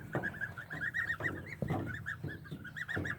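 Goslings in a chicken tractor on grass, giving a run of repeated high, nasal peeping honks close by, several overlapping calls in quick uneven rhythm, with small rustles underneath.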